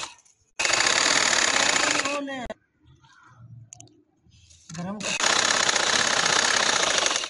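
A sewing machine runs in two long bursts of rapid stitching through fabric, sewing a full-sleeve garment with piping underneath. The loud, steady chatter stops for a quiet gap with soft handling noises, then starts again.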